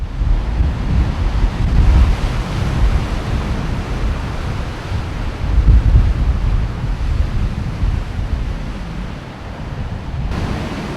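Ocean waves rolling onto the shore in a continuous loud wash, with wind buffeting the microphone and no voices.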